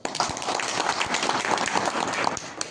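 Audience applause at a Marathi gathering, a dense continuous patter of many hands clapping at steady loudness for a few seconds with faint crowd murmur.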